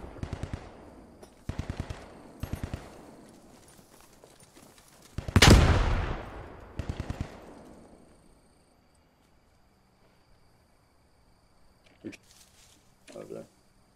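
Gunfire and a frag grenade blast in a tactical military video game: bursts of rapid shots, then a loud explosion with a long decaying roar, more shots, and a few distant pops, with players talking over the action.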